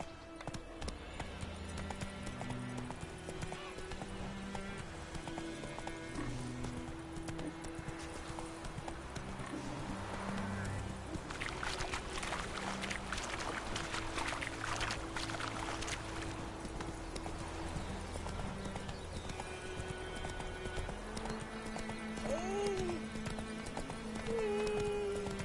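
Geralt's horse Roach gallops in Witcher 3: Wild Hunt, a steady rhythmic clip-clop of hooves running throughout, with brief voices of characters speaking over game ambience.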